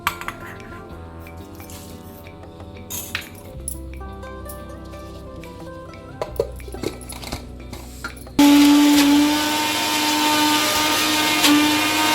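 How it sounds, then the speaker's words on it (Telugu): A mixer grinder whirs loudly into life for the last few seconds while grinding ginger and garlic into paste, after a stretch of clinking jars, lids and utensils being handled. "వీటిని ముందుగా గ్రైండ్ చేసుకోవాలండి"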